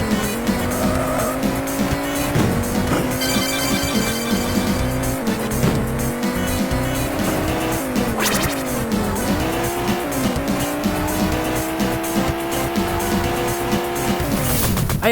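Amiga racing game ATR, with cars drifting around corners and slamming into opponents: buzzy synthesized engine tones rising and falling alongside repeated tire squeals and skids, loud and continuous throughout.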